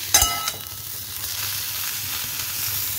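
Pointed gourd slices fry in a pan, a close steady sizzle opening with a couple of sharp clinks from a utensil, then settling into an even crackle.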